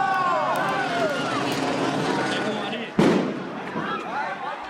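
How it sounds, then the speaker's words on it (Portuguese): A bomb goes off at a street protest near a São Paulo metro station: one sudden loud broadband burst about two-thirds through, over steady crowd noise and talk. "Uma bomba explodiu e assustou o público que tentava entrar na estação Faria Lima."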